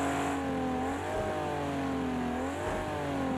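Ferrari engine in the racing game Project Cars 2 pulls hard under load on a track, a loud, steady roar whose pitch climbs, dips and climbs again as the car accelerates, shifts and accelerates through corners.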